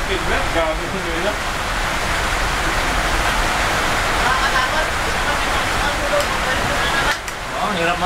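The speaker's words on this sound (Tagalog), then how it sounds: "Lakas ng ulan." Heavy rain pours down steadily during a night thunderstorm, heard from a restaurant as a dense, loud hiss that stays constant throughout. Voices talk faintly over it.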